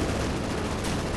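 Dense, continuous battlefield gunfire from a Company of Heroes 2 match on the Hill 331 map, Wehrmacht against Soviets, with an anti-tank gun among the weapons firing; loud, close and unbroken, with no clear separate shots.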